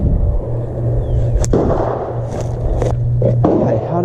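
Sharp gunshot cracks ring out near a pond during early spring fishing, several spaced reports punching through a steady background hum, with one louder near shot and fainter ones following.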